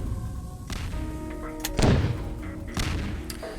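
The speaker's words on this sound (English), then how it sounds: "its alternate fire lobs a shell that explodes on impact and sends shrapnel flying" A video game weapon's alternate fire lobs a shell that bursts on impact, heard as a few sharp synthetic shots and clicks with one heavy booming blast near the middle, up close and with no talk over it.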